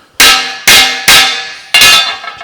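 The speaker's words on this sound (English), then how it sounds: "we should be able to just chop the wood" Four sharp, loud strikes as wood is driven down onto a hammer form while shaping car door rust-repair panels, each blow ringing briefly before the next, evenly spaced and close.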